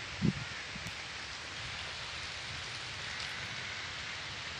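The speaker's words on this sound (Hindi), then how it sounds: "आज का जो मौसम है ना बारिश का बना हुआ है।" Steady rain falls during a heavy downpour, a constant hiss of drops on surfaces with one brief louder knock near the start and no talking.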